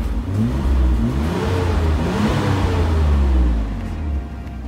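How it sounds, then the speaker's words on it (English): A stock RB26 engine in a Nissan Skyline GT-R revs loudly and up close, its deep rumble climbing and falling through several throttle blips before settling to a lower idle. "There she is, the old RB26, the heart of the beast."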